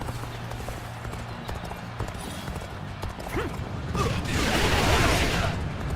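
Horse hooves clip-clop in the video game Dynasty Warriors: Origins, starting softly under a steady game hum and then swelling into a louder, rushing gallop.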